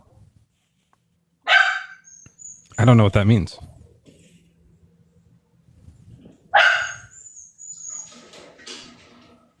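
A dog barks twice in sharp bursts, close and loud, with someone speaking briefly between and after the barks.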